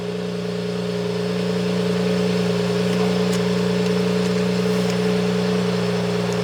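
A 2JZ-swapped Nissan 240SX drift car idles after a cold start, a steady droning engine tone held close and constant with no talk.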